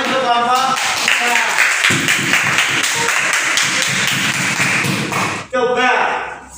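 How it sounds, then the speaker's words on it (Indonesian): Classroom applause for a student group during a primary school fractions lesson, a dense, steady patter of hands clapping throughout, with a teacher's voice and children talking over it. "coba beri tepuk tangan untuk kelompok 3."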